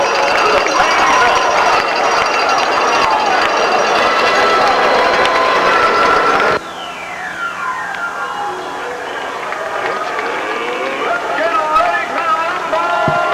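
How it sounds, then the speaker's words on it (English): Broadband crowd roar at a 2001 high school football game between Fort Frye and Monroe Central, loud and steady in the stands, dropping abruptly midway to a thinner murmur with faint siren-like sweeps and scattered shouts. "We had a lot of crowd noises there"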